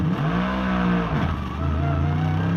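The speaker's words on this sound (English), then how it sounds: "he refires his Mercedes engine and rejoins the pit lane" A Mercedes race car engine at the Nürburgring refires and revs up, a loud steady drone with rising pitch as the car pulls away down the pit lane.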